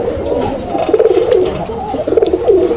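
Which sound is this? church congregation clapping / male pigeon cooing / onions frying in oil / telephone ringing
male pigeon cooing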